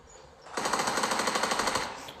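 A rapid automatic burst of gunfire in PUBG on the Erangel map, a single continuous stream of about a dozen evenly spaced shots, loud and close, lasting roughly a second and a half.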